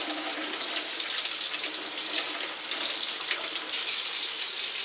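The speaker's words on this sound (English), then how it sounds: "just run it under the faucet, not even touch it." Water runs from a faucet over a Zenith H-500 Trans-Oceanic radio part, making a steady, close, hissing stream with no talk.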